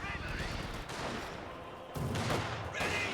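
A .50 cal machine gun opens up in a big-team WWII strategy battle against Axis Panzer Fusiliers, its fire a dense, continuous rattle of bursts mixed with the thud of artillery and mortar barrages, while voices shout and talk over the din.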